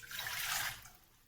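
Half a cup of water is poured into a pan for masala chai, a brief close splashing pour that fades within about a second.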